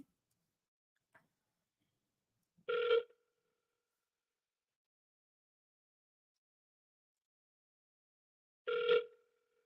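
An outgoing phone call sounds its ringback tone, two short, clean rings several seconds apart with near silence between them.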